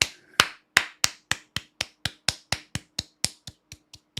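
A slow, soft golf clap: about sixteen evenly spaced light claps in a steady rhythm, close by and alone, growing quieter toward the end.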